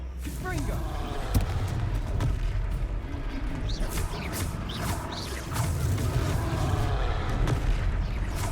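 Booming spell blasts and rumbling impacts during a troll fight in the video game Hogwarts Legacy, several explosive hits over dense game noise, with talking throughout.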